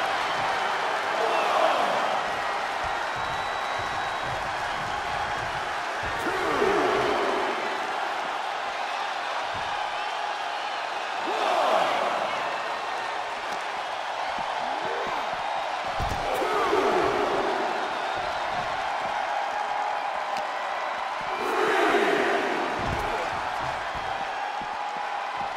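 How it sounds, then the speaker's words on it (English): A wrestling arena crowd in the video game WWE 2K23 roars during an elimination match, swelling in waves every few seconds over a constant murmur, with a commentator talking over it. "Randy Orton feeding off this electric crowd."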